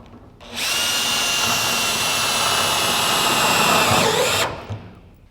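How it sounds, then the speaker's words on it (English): A screw gun drives fasteners through clips onto standing seam metal roofing panels: one loud, sustained high whine of about four seconds that starts and stops sharply, close up, with no talking. "While I've got this bit in my gun, I can go on and put the clips down."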